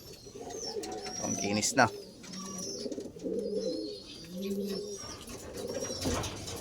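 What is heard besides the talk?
racing pigeons cooing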